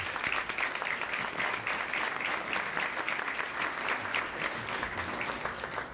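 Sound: audience applause

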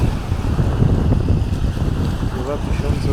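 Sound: wind blowing on beach

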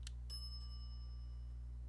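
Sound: service bell rung at counter in The Secret of Monkey Island video game

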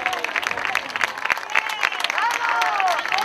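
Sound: audience applause for veteran sprinters

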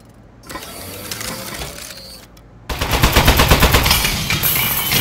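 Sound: turret firing in the Aperture Desk Job video game

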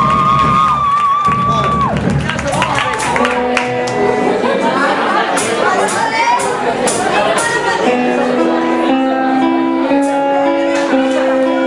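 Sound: audience applauding and cheering

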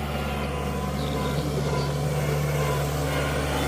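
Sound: tractor working at a construction site

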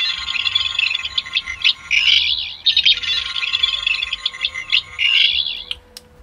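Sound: Fourteenth Doctor sonic screwdriver toy sound effect

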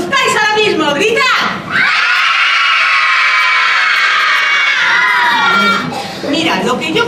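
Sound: audience of children screaming together

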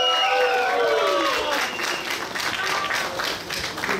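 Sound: audience applause

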